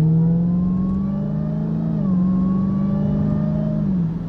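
Supercharger whine from a 2021 Dodge Charger Redeye fitted with a Legmaker intake, a steady loud tonal whine over engine rumble while cruising on back roads, pitch shifting slightly with throttle.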